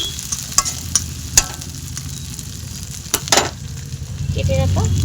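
A spiced masala fries with ginger paste in a pan, a steady low sizzle with sharp clicks of a spoon scraping and stirring, growing slightly fuller toward the end.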